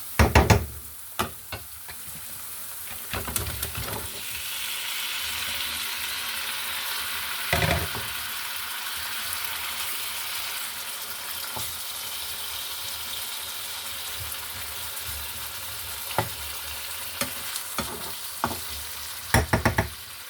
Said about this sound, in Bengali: মশলাটা আমার ভালোভাবে কষানো হয়ে গিয়েছে এখন মাছটা আমি দিয়ে দেবো